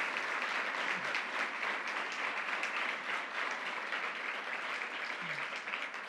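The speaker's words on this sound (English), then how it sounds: "Let's give a round of applause to our great mayor, Mayor Madden." A crowd at an outdoor civic announcement in Troy applauds the mayor with steady, sustained clapping, moderately distant and even in level throughout.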